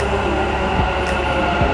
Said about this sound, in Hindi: ये मेट्रो स्टेशन का प्लेटफॉर्म है